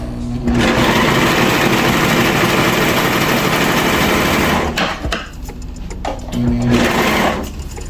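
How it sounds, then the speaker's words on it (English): A serger stitches the side seams of a t-shirt dress with a loud, steady mechanical whir. It runs for about four seconds, pauses briefly, then makes a second shorter run. "So I'm gonna go ahead and do that on my serger."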